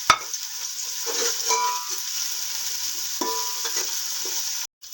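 Ground garlic, green chili and ginger frying in a pan for macaroni, a steady close sizzle with light stirring scrapes, cut off abruptly just before the end.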